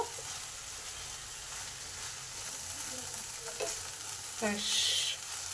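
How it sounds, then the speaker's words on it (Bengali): Gentle stirring of crushed fried lentil bori into gima greens chachchari in a pan, soft scraping and low sizzle close by, with a few brief clinks of the utensil. "এবার বড়িটাকে ভালো করে এর সঙ্গে মিশিয়ে নেব"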